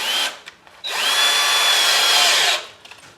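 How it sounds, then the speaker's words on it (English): A power drill whines in short bursts while drilling out a rivet on a Dinky Jaguar toy car, then runs in one sustained high-pitched grind for nearly two seconds before stopping. "I'll try a different kind of drill this time."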